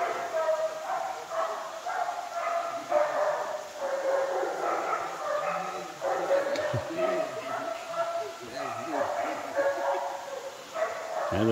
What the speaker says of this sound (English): that dog bark echoes down in here, don't it?